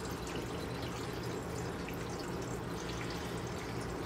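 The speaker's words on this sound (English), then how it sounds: "I'm going to put about a quart or so of water in" About a quart of water is poured into a pot of apple peels and cores, a steady continuous splashing pour throughout, close and moderately soft.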